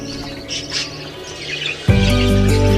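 A small grey female budgie in an aviary gives faint, scattered chirps. About two-thirds of the way through, a loud steady hum abruptly takes over.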